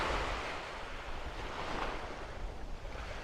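Surf on Nacpan Beach in El Nido, a tropical shore lined with coconut palms, rolls in as a continuous close wash of waves with some wind rumble and no voices.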